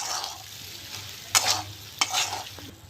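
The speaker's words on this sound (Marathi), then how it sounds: "आता तेल आवाज देतो." Oil and bitter gourd sizzle softly in a pan in a village kitchen, a steady low crackle broken by two sharper bursts of stirring scrapes and spatters.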